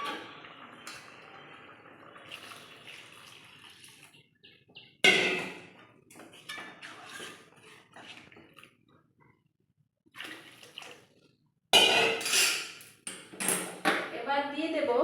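Hot water poured into a pot of cooked dal, a splashy watery pour that starts abruptly and again later, with clinks of utensils and a voice talking over the kitchen sounds.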